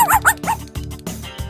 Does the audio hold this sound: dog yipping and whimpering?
yes